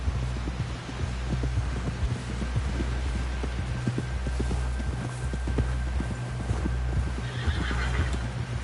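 In the video game Red Dead Redemption 2, rhythmic horse hoofbeats clip-clop steadily over a low rumbling hum, with a horse whinnying near the end; no talking.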